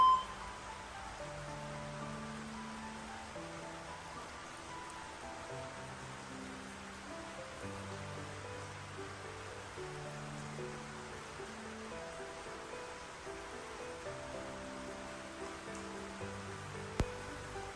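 Steady rain hisses outside throughout, a soft continuous patter, with gentle music playing underneath.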